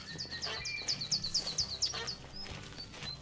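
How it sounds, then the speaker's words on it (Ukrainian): Ducks and geese call in a rapid string of honks and quacks over a low, busy background rumble, fading out toward the end, in the hunting video game theHunter: Call of the Wild. "Качки мене, ці гуси мене збивають."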